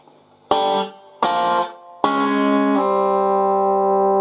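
Slow riff on distorted electric guitar: two clipped power-chord stabs, then a third chord that slides into a long, steady ringing sustain, loud and close with no voices.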